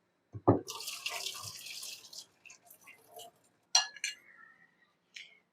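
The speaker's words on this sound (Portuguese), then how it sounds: "agora eu vou escorrer a água e a gente vai descascar aqui enquanto ela tá quente ainda" Hot water drains off boiled potatoes for gnocchi in a kitchen, a splashing pour into a sink with clinks of a pot or glass and a few brief follow-up trickles and drips.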